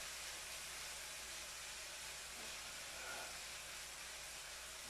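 Bell pepper and other vegetables fry in a pan for a General Tao sauce, giving a faint, steady sizzling hiss that holds evenly throughout.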